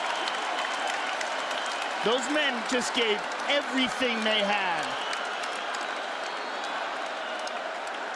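Arena crowd after a UFC fight keeps up a dense, continuous roar of cheering and applause, broad and steady throughout, with a commentator talking over it.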